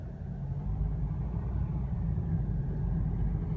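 A Mazda Demio XD Touring L Package diesel car engine idles steadily around 800 rpm, a low, even rumble that holds constant throughout with no talking.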